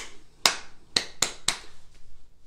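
A single pair of hands claps a short rhythm of four sharp, fairly close claps with uneven gaps, then a faint fifth tap, against a quiet room, with no voices.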